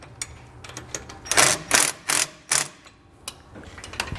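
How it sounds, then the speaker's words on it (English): A hand ratchet clicks in several short, loud bursts while a bolt is snugged on a rear air helper spring bracket on a 2015 Ford truck. Softer single clicks come before and after the main strokes. "I'm just going to kind of hold one of these bolts, and I'm just going to snug it up a little bit."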